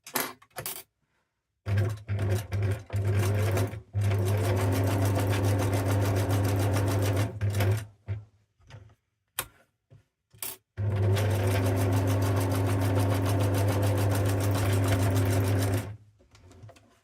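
Sewing machine stitching the belly seam of a handmade fabric owl, running in two long steady bursts separated by short pauses and a few soft clicks, close and loud with no talking.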